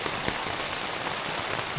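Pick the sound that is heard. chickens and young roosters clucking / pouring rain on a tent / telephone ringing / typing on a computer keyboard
pouring rain on a tent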